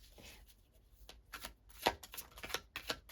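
Tarot cards being shuffled by hand, a run of crisp riffling and flicking bursts with brief pauses, close and fairly quiet with no talk.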